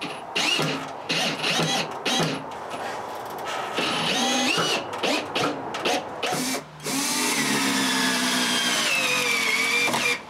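A power drill drives screws through the top of a backyard firewood shelter beside a workshop, whirring in loud bursts with brief pauses, then one long sustained run.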